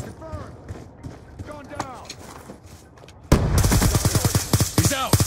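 Video game gunfire from a Black Ops 2 team deathmatch: soft shots under voices at first, then a loud burst of rapid firing that runs to the end, with people talking throughout.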